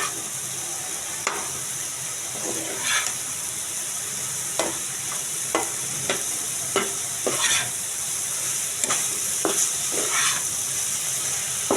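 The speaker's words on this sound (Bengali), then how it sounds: "তো আমি না ঢেকেই ভাজিটা করব।" Bottle gourd stir-fries in an uncovered pan with a steady, even sizzle. Sharp scrapes and knocks from a spatula recur every second or so as the pieces are stirred.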